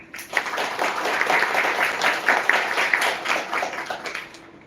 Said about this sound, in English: A huge round of applause for Figma.